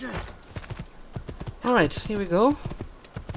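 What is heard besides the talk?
horse hooves galloping in Assassin's Creed II video game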